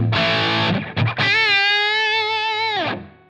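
Electric guitar through a Rev Gen Purple amp model and a 4x12 Greenback 25 cabinet with delay off: a loud, distorted chord is struck, choked briefly, then a sustained overdriven note rings dry for about two seconds before being cut.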